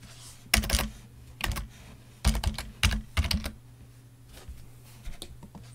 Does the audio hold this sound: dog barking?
no